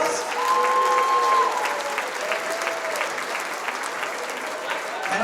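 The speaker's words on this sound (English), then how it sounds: "Give yourselves a big round of applause." Crowd at a fundraising event for service dogs applauds steadily, a broad roomful of clapping at constant strength for several seconds with a faint voice or tone drifting underneath.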